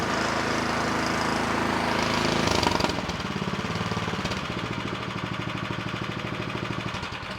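A Craftsman 24-inch snow blower's small engine runs close and loud, its steady clatter shifting to a lower, rhythmic chugging idle partway through.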